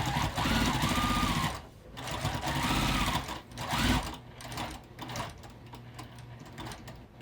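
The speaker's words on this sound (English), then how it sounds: "Back stitch, turn, and then I back stitch again" A sewing machine back stitching a quilted bag runs in short bursts, several loud close whirring runs separated by brief pauses, then a few softer stitching spurts at the end.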